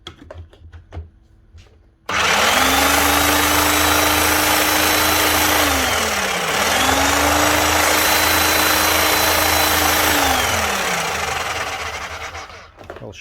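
A 2017 Bosch GSH16 breaker hammer starts abruptly and runs loud and steady for about ten seconds, a close, continuous hammering rattle with a droning motor tone that dips once briefly before winding down.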